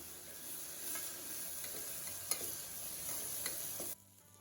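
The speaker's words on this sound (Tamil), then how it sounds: "தக்காளி போட்டுட்டு நல்லா வதக்கணும்." Tomatoes and onions sautéing in a pan for a Sourashtra-style brinjal gojju, a bright steady sizzle with a few stirring scrapes and clicks, cutting off abruptly near the end.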